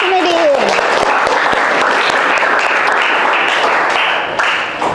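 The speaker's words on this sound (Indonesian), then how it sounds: "Tepuk tangan dulu untuk si Nedin." A classroom full of students bursts into sustained clapping for a classmate during a lesson, the applause steady and close for about five seconds, with a voice briefly heard at the start.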